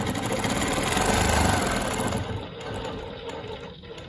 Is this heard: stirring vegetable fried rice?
no